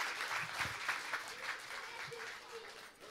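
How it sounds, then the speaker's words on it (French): Audience applause fills a family church service for young children, a dense steady patter of many hands that holds throughout and fades slightly at the end, with a voice speaking faintly underneath. "on les applaudit bien fort"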